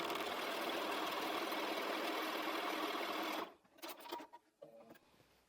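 A sewing machine stitching a curvy log cabin quilt block runs in a loud, steady whir for about three seconds, then stops, followed by a few softer mechanical clicks and rattles nearby.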